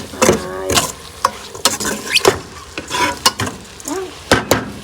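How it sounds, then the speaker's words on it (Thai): Fish dry-roasting in a pan is stirred in brisk, loud scraping strokes, about a dozen uneven scrapes and knocks of the utensil against the pan following one another closely, with only a faint sizzle in between. "ก็จะคั่วคั่วคั่วให้มันหอมหอมก็กินปลาเนาะพี่น้อง"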